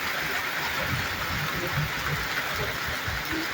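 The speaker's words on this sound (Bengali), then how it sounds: "দেখছেন ক্যাটস অ্যান্ড ডগ মুষলধারে কিন্তু বৃষ্টি হচ্ছে" Heavy rain pours down steadily in Rajbari, a dense, continuous hiss and patter with no pauses and no voices.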